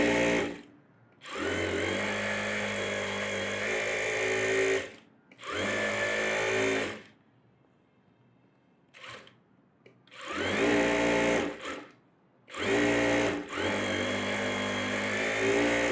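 A sewing machine runs stitches through net blouse material in several bursts of steady, whirring motor noise, with short pauses and one longer quiet gap between runs and no talking.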